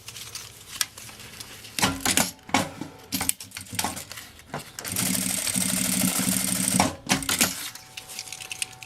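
A sewing machine stitches a bag strap in short bursts, quick mechanical chattering runs separated by pauses and handling clicks, then a longer sustained whirring run, fairly close and moderately loud.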